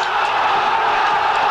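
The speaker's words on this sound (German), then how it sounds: "Der Jubel hier im Stadion ist riesengroß" Stadium crowd roaring in celebration after a goal at a 1980 Cup Winners' Cup football match between Carl Zeiss Jena and AS Roma in East Germany, a dense, steady wall of cheering that holds loud throughout.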